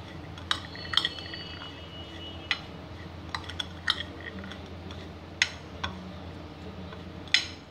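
Sprout filling being mixed with chaat masala, black pepper and lemon, a spoon giving a few scattered light clinks against the bowl over a soft, steady background, with no talk.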